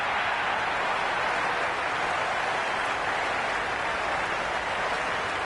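A stadium crowd at a cricket match in the Cricket 26 video game roars in a steady, dense wash of cheering and applause, broad and sustained with no distinct voices standing out.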